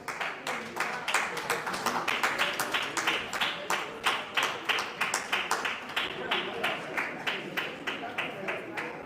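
Conference audience applauding steadily, dense rapid hand claps from a crowd filling the room at a moderate distance, continuous and even throughout.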